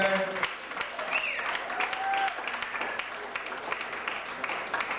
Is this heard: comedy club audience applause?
yes